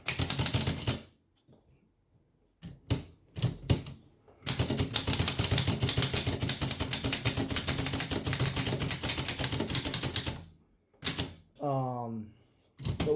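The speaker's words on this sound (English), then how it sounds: "it still functions as a normal typewriter" Someone types on a Corona 3 folding typewriter in two bursts of rapid, crisp key strikes close by, with short pauses between them and a rising ratchety whir near the end.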